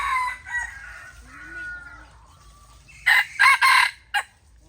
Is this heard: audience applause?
no